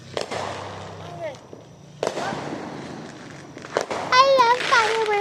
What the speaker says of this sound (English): I love fireworks.